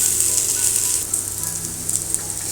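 Plantain pieces roasting in a pan give off a steady, close sizzle, a continuous bright hiss with small pops and crackles throughout.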